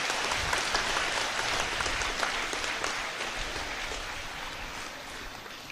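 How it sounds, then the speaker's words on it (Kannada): Sustained applause from a large crowd at the Dharmasthala Lakshadeepotsava pilgrimage event, a dense steady wash of many hands clapping that carries on throughout and eases slightly toward the end. "ಜೋರಾದ ಚಪ್ಪಾಳೆ ಬರಲಿ ಒಮ್ಮೆ."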